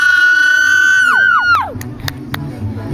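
Girls in a crowd at a water show scream and cheer, a long piercing shriek that slides down and fades into general crowd noise, loud and near.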